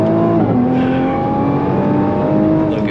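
A Nissan GT-R pulls hard through second gear with the throttle wide open, its engine note climbing steadily and loud with mechanical whirring layered over it, one continuous close-up run and no talking.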